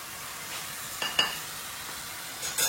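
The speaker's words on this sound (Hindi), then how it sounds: "साथ साथ मैं ये फ्राई कर रही हूँ फ्राइज़ को" French fries frying in hot oil beside cooking mushrooms, a steady soft sizzle with a few brief clinks of a utensil against the pan near the middle and end.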